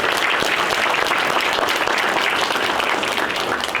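Audience applause for Senator Patrick Gallivan at a conference room dedication ceremony: dense, steady clapping from a room full of people, loud and close, continuing unbroken for several seconds without voices.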